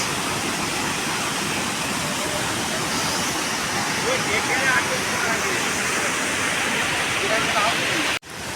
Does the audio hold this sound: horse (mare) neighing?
no